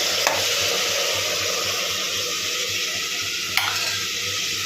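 Mutton curry sizzling steadily in a hot pan as tomatoes go in for gongura mutton curry, a continuous close frying hiss with two sharp clinks of a utensil against the pan.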